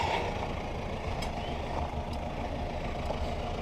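A vehicle arriving outdoors. A low engine rumble holds steady and fairly close, with no voices over it.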